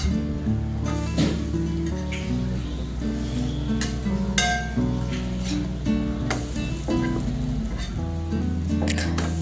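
A bread omelette fries in oil on a pan, giving a soft, steady sizzle with occasional light clinks, partly masked by tonal background music throughout.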